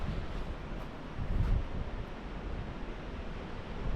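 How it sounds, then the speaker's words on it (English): Strong coastal wind roars steadily outdoors in Portugal, a dense low buffeting rush with gusts swelling around the middle, close and loud against the microphone with no voices. "it's really windy today."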